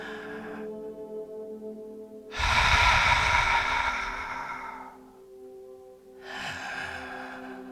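A person breathing during a Pilates exercise: a quiet opening breath, then a long, loud, close airy inhale lasting a few seconds, and after a pause another breath.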